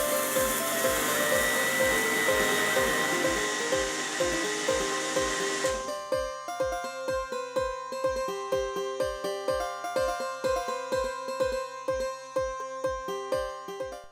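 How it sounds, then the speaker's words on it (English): An electric grinder whirs steadily as it grinds cardamom into fine powder, first as a dense buzzing roar and then in rapid rhythmic pulses of the motor, loud and close throughout. "grind it to make a fine powder"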